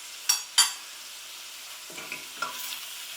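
A spoon stirs vegetable goulash seasoned with smoked paprika in a pan: two sharp knocks against the pan, then a soft scrape and a low sizzle, all fairly quiet.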